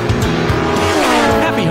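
Revving race car engines and squealing tires over fast electronic music, loud and busy throughout, the racing sound effect of a battery-powered Hess toy race car.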